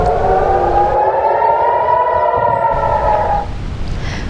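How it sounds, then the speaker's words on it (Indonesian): Air raid warning sirens wail across Israel during an Iranian missile attack. A loud, sustained rising-and-falling tone with layered overlapping sirens holds for several seconds, then cuts off abruptly, leaving a fainter siren sounding in the distance. "sirine tanda bahaya terus berbunyi"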